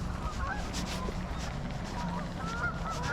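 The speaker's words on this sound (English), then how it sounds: "You can see all these geese out there." A flock of geese honking out on the wide Delaware River at Washington Crossing, scattered calls over steady outdoor wind and water noise, moderately distant.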